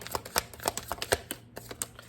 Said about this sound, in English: I don't really have to keep shuffling